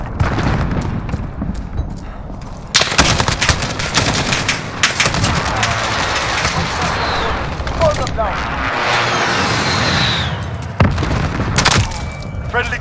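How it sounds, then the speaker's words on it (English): Call of Duty: Modern Warfare gameplay with bursts of gunfire and booming precision-airstrike explosions, loud and dense, with in-game voice callouts over the action. "Friendly precision airstrike on the way."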